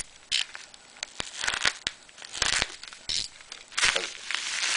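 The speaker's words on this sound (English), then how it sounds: "Now let's open up mine." Package being opened by hand up close, with sharp bursts of crinkling and tearing paper or plastic in uneven spurts separated by brief pauses.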